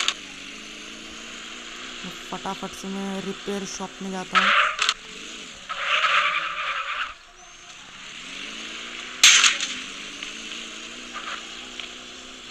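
Car driving and skidding in the mobile open-world game Madout2, behind a Chevrolet Bee sports car: engine revving with bursts of tire squeal, heard under someone talking.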